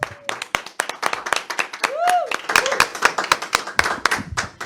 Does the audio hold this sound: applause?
yes